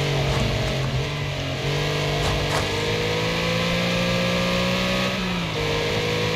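Several race car engines roar continuously in a Wreckfest Panther RS rumble race at Rockfield Roughspot, pitch shifting up and down as they rev and change gear, loud and close with constant rumble.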